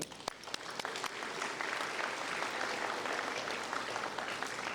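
An audience at the City of Jurupa Valley State of the City 2024 event applauds, a soft, even wash of many clapping hands heard from a distance and sustained throughout.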